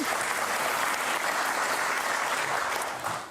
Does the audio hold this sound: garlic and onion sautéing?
no